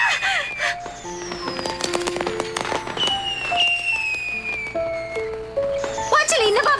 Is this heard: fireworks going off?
yes